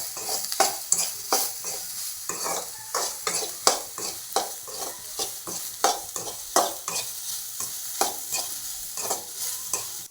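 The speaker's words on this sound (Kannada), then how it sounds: "ಇವಾಗ ಸೋಯಾಬೀನ್ ಹುರ್ಕೊತಾ ಇದ್ದೀವಿ" Soya beans fry in a tablespoon of oil with turmeric and salt, sizzling softly while a utensil scrapes and stirs them in the pan in repeated sharp strokes, close up, with no talking.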